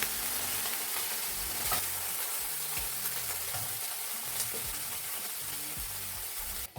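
Chicken browning in a pan with a tablespoon of soy sauce, a constant close sizzle with occasional stirring scrapes and pops.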